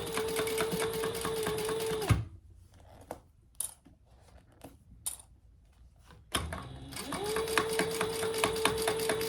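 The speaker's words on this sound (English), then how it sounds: "And I go back over those 2 seams just once." A sewing machine running steadily and loud while stitching seams of a shoulder bag, stopping for a few seconds of quiet handling clicks before starting up again at full speed.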